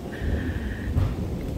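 Thunder rumbles low as a storm arrives over a rural smallholding, with rain hissing in the background and a louder crack-like burst near the middle.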